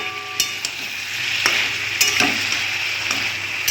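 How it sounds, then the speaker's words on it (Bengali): Fish curry masala with jackfruit and potato being sautéed in a pan, a steady close sizzle with scattered stirring scrapes and clinks throughout, no voices. "একটা কষানো হোক।"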